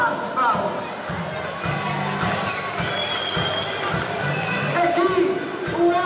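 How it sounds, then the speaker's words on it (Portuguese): A lively crowd at a festival cheers and shouts with clapping mixed in, busy and loud throughout, with voices calling out over the noise. "Dá lá essas palmas."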